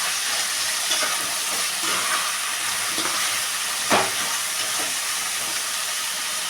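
Eggplant fry with fenugreek leaves is stirred in a hot pan, making a steady soft sizzle and hiss with a few scraping stirs. One sharper clatter of the spoon against the pan stands out midway.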